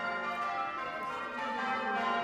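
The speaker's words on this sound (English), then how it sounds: "The bells here rang out across the town to mark today's royal visit" Church bells ring out across a town for a royal visit, a dense sustained wash of overlapping tones filling the whole span, steady and fairly loud with no voices.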